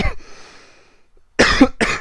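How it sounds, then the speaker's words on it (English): A person coughs close to the microphone, first a short cough, then after a quiet stretch two sharp coughs in quick succession. "Sorry about the cough again."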